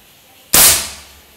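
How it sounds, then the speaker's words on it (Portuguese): A single sharp crack of a PCP air rifle shot, loud and close, followed by a brief fading ring. "Eu vou fazer um agrupamento embaixo com 5 tiros"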